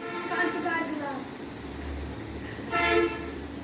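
Buses pass on a road with two blaring horn blasts, one early and one near the end, over a low traffic rumble.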